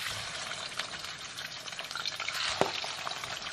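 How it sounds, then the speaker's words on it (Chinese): Fish bones deep-frying in hot oil give a steady, dense sizzle and crackle that holds throughout, with a few sharper pops; no talking. "先从油炸这个鱼骨开始"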